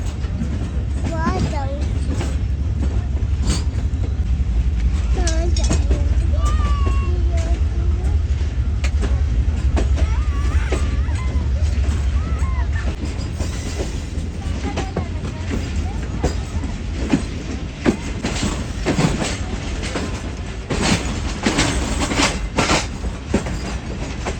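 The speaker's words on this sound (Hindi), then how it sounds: "15 किलोमीटर की क्रॉसिंग के साथ ट्रेन अप्रोच बना रही है रोडी जंक्शन पर" Awam Express train rolls toward Rohri Junction, a steady loud rumble of rail wagons with clanks and rattles and intermittent clicks, with voices talking over it.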